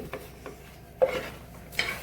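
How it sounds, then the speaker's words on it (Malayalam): Intermittent scraping and stirring as spice powder is roasted in a pan, a spoon rasping against metal in a few short strokes with quiet gaps between. "ഇനി പച്ചമണം മാറണ വരെ ഇതൊന്ന് വറുത്തെടുക്കാം നമുക്ക്"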